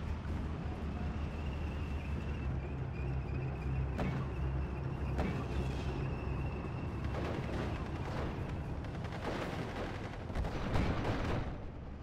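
Artillery fire in Steel Division: Normandy 44 on the 2nd Infantry Division's front: several heavy, distant booms land irregularly over a constant low battlefield rumble, with a denser cluster of blasts toward the end.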